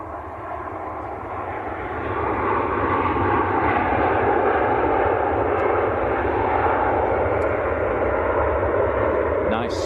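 An airliner lands at Manchester Airport, its engine roar and rushing wind building into a loud, steady, broadband rumble that holds throughout, heard from a plane-spotting spot.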